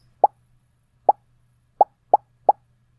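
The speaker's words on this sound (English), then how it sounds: "The sound is called Pop" Five short, bright pops from a Scratch sound effect chosen for collecting a coin, spaced unevenly and each crisp and isolated over a faint low hum.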